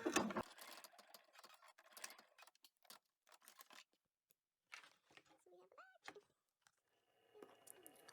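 An embroidery machine runs hole stitches with no thread loaded, making quick faint ticking and clattering stitch sounds with short gaps, under a nearby voice talking quietly.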